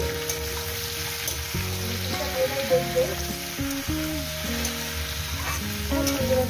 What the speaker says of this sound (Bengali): হলুদের গুঁড়োটাকে দিয়ে আমি দু থেকে তিন মিনিট এটাকে ভেজে নিই